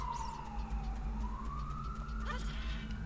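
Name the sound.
ambulance siren passing by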